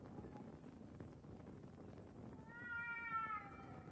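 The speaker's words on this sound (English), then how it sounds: "Oh god, I hear the cats again." Cats meow in Kingdom Come: Deliverance II, a drawn-out wavering cry rising near the end over a quiet windy ambient bed, faint and somewhat distant.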